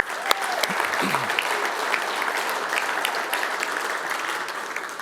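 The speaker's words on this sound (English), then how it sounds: "give a round of applause for those guys in the kitchen" A room at a men's breakfast gathering claps for the kitchen staff, steady crowd applause with scattered sharper claps, and a brief murmur of voices near the start.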